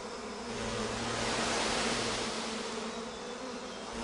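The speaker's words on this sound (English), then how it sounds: "There you can see these giant Asiatic bees." A colony of giant Asiatic honey bees buzzes steadily, a dense, continuous hum of many wings that swells slightly in the middle and holds without pause, with no voices over it.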